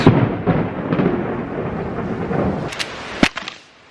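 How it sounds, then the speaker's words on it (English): Thunder from a close lightning strike in the Smoky Mountains, loud rumbling rolls with a few sharp cracks near the end before fading to quiet. "That was lightning. That was very close."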